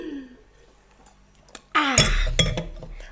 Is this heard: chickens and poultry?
no